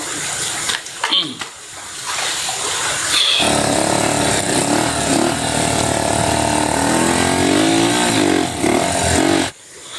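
After some faint voices, a motorcycle that keeps stalling suddenly roars in close by and keeps running loud and rough, then cuts off near the end.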